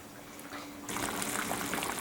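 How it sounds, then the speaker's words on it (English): Lard bubbles in a pot on the stove while carnitas cook at medium heat, a dense sizzling, crackling bubble that swells suddenly and then holds steady, close and fairly loud. "So this is how your lard should be bubbling."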